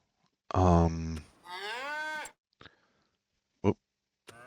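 Dairy cows moo in a farming simulator game: one long, loud low moo, then a higher drawn-out call, followed by a few short, fainter moo fragments spaced apart.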